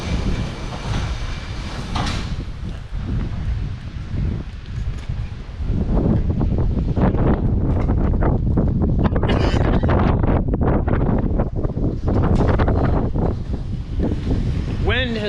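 Wind blowing outdoors in gusts, buffeting the microphone with broad rushing noise that strengthens partway through, with some rustling and a person talking.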